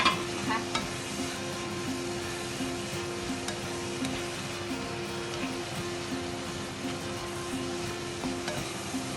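Tofu with ginger and scallions stir-fried in a pan, making a continuous close sizzle with steady scraping strokes from the spatula and no one speaking.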